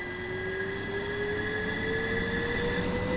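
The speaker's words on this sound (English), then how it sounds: "Here it comes." A passenger train on the line toward Strood, in England, passes at about 50 mph, heard as a steady rolling roar with a high sustained wheel or motor whine that holds throughout, no voices.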